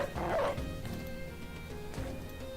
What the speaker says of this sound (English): We're going to unleash the dog.